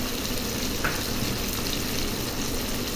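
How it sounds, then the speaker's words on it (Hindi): Yogurt going into hot, sizzling beef biryani masala in a pot, a steady bright frying hiss with faint stirring, close and continuous, with no voices. "अब मैं इसमें दही डालूँगी।"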